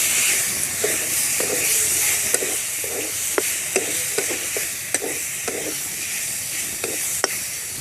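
Chopped chicken and potato sizzling and frying in a pan for homemade chicken chowmein, a steady close hiss with a spoon or spatula clicking and scraping against the pan at irregular intervals.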